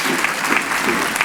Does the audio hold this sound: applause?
yes